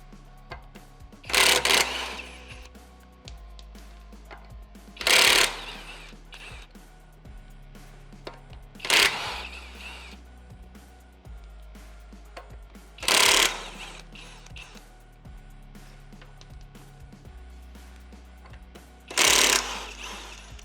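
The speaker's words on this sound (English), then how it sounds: "we're just gonna go ahead and use the impact on all these so you can see how that process goes" A cordless impact wrench drives the lug nuts on a Tesla wheel in five separate loud rattling bursts, each lasting about a second, with quiet pauses and faint handling noise in between.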